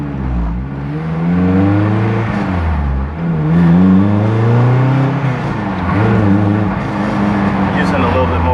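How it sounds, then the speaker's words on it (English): Naturally aspirated Toyota MR2 Spyder engine revving up through successive gear shifts, close and loud from inside the car, with rising pitch sweeps broken by brief dips at each shift and someone talking over it. "I'm kind of over revving on each shift"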